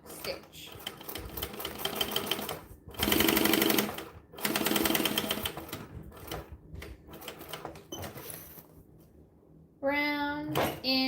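Sewing machine running in short bursts as it stitches forward and back on a bag, the motor whirring loudly then stopping, with brief handling noises between runs and a voice speaking softly in the gaps.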